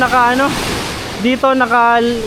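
Large ocean waves churn near a small boat in a steady rushing wash with wind noise, while someone talks loudly over the surf.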